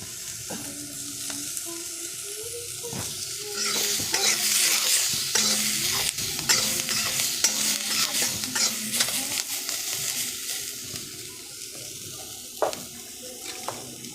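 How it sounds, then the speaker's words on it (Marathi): Onions roasting in a pan over a lowered flame for chicken gravy, with a steady sizzle broken by scraping and stirring clatter from a utensil, louder in the middle stretch. "तर हा कांदा भाजायला किती वेळ लागू शकतो"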